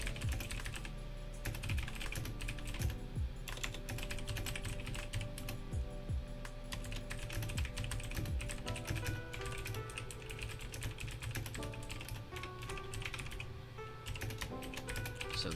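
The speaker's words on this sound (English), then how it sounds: "I'm gonna pull my mic up a little bit so you don't hear the keyboard as much" Continuous typing on a computer keyboard, rapid uneven clicks and key taps running throughout at close range, with no talking.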